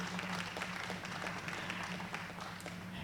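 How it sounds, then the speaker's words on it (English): Crowd at a national alpaca show applauds, a steady wash of clapping at moderate distance with a low hum underneath throughout. "How about a round of applause for all them making it this far?"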